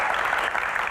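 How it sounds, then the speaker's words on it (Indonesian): A studio audience at an Indonesian comedy talk show claps in a brief, steady burst of applause. "tepuk tangan dong buat panelis kita yang luar biasa, Mbak Tejo"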